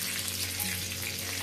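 Pinch of asafoetida and curry leaves sizzling in hot oil as a tempering for vada chutney, a steady close frying hiss with a low hum beneath, brief and continuous.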